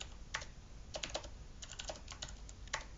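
Quiet, close typing on a computer keyboard, with scattered bursts of key clicks separated by short gaps and a faint steady room hiss underneath.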